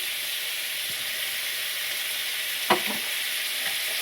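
Steady sizzling of onion and tomato sautéing in a pan with curry leaves and coriander, a constant hiss with a brief stir or clatter near the end, no talking.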